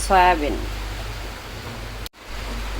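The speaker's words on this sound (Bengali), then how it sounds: "বাইরে হচ্ছে প্রচুর বৃষ্টি" Heavy rain falls outside as a steady, dense hiss, heard from indoors. A brief voice sounds at the start, and the hiss cuts out for a moment near the end.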